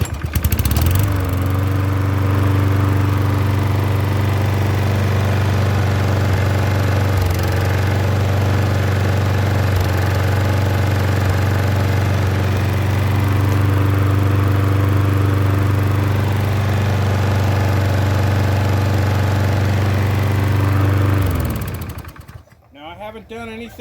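A Troy-Bilt lawn mower that only starts sometimes runs its small engine at a loud, steady idle for about twenty seconds, then cuts out abruptly near the end.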